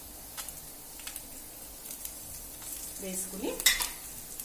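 Dried red chillies frying in hot oil for a mango coconut chutney, a soft steady sizzle with light stirring clicks, building slightly louder toward the end as a voice briefly speaks over it.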